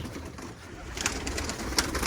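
Pigeons coo softly at close range on a humid, rainy day, with a low rumbling murmur and a few rustling flutters; no talking.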